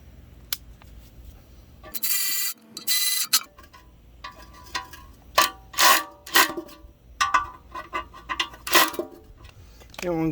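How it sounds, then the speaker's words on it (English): A Snap-on brushless ratchet runs bolts into an aluminum oil pan on a 5.3-liter engine. It gives several short buzzing bursts of varying length, broken by sharp metallic clicks and ticks. Close up, with no talking. "these ratchets right here from Snap-on, the new brushless, they do have a decent amount of torque"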